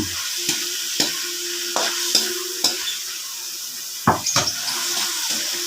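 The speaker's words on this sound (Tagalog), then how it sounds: "Lalagyan na natin tong hipon." Shrimp going into a pan of softened tomato and onion, with a sizzle and frying hiss plus a few sharp utensil clinks and stirring scrapes, no talk.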